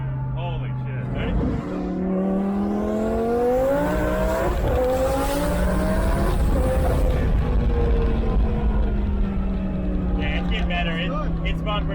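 Twin turbo Audi R8 accelerating hard with tires spinning, a loud engine revving and climbing in pitch through the gears with screeching tire squeal, while people react and talk over it.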